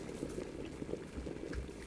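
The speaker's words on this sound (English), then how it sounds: "If you stir the eggs around in the pot while they're boiling" Eggs boiling in a pot of water at home for breakfast, a steady, close bubbling churn with no pauses and no voices.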